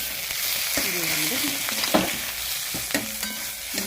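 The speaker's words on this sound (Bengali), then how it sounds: "মশলাটা এবার আমি কষবো।" Spice masala with Kashmiri chili powder, salt and turmeric fries in a pan, giving a steady close sizzle broken by the scrape and knock of a spoon stirring.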